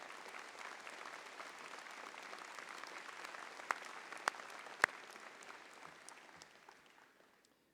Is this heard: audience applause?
yes